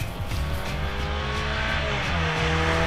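Diesel Nissan Titan pickup cornering hard on a go-kart course, engine droning steadily with faint tire squeal, close and continuous, no talking.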